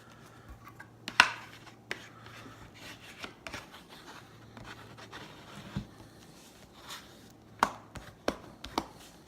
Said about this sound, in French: Alors, maintenant, on coupe n'importe quoi